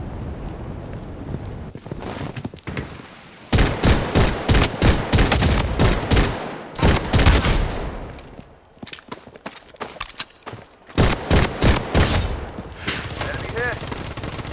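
Blood Strike shooter gunfire: rapid bursts of loud automatic fire and scattered single shots, near and repeated in clusters with short lulls, while game voice lines sound over the action.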